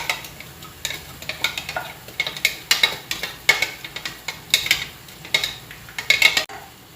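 Onions frying in a pan for Filipino adobo, a continuous sizzle broken by repeated clinking and scraping strokes of a utensil stirring against the pan, close and busy.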